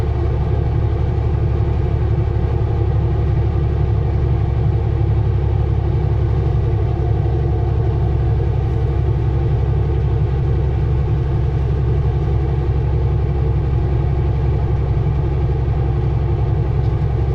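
A car climbs uphill on a highway in British Columbia, its engine droning loud and steady with heavy low rumble and constant road noise throughout.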